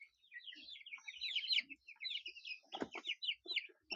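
Chickens clucking and cackling close by, a busy run of short, irregular calls with a few louder bursts and no talk.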